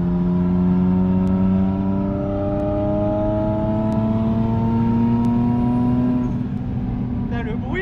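A turbocharged BMW 325i E36 engine revs hard in fourth gear, its loud close drone climbing steadily in pitch for several seconds, with a brief voice near the end.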